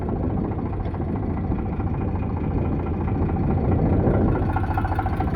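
A 2014 Eicher 368 tractor engine idles steadily, a continuous low rumble that stays loud and even throughout with no other sounds.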